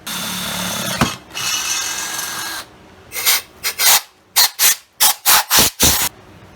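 Short bursts of a power drill whine in and out, about eight quick pulses in a row after a stretch of grinding, rasping noise, while drilling a hole during a BMW cooling fan thermal switch install.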